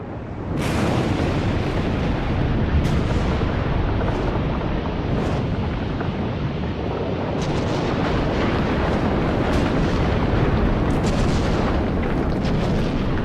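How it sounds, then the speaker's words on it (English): The 535 eruption of the volcano Krakatoa: a loud, continuous roaring rumble punctuated by repeated heavy booming blasts, sustained and close, with no voices. "In 535, Krakatoa erupted."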